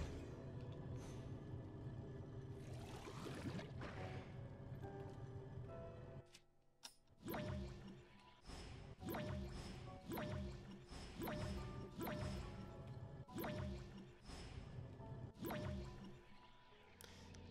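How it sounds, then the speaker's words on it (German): A water bubble emerging in the video game The Legend of Zelda: Tears of the Kingdom, heard as a dense wash of liquid sound that gives way to a regular series of wet, squishy drips and bloops, loud and close. "Hier kommt auch eine Wasserblase raus"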